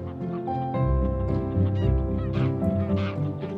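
Geese honk repeatedly among marsh reeds at the Oostvaardersplassen wetland in Flevoland, a dense, overlapping chorus of loud, nasal calls from a nearby flock that carries on steadily throughout.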